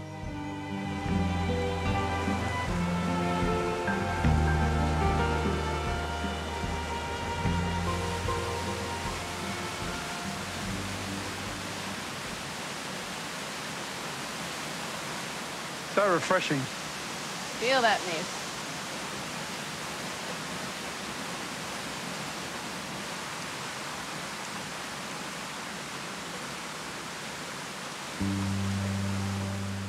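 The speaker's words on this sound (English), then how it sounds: "We're making our way to a waterfall known as Rainbow Falls." Steady broadband rush of Rainbow Falls, a waterfall in Yugambeh country, loud and continuous throughout; a voice speaks briefly over it early on, with a few short bird-like chirps partway through.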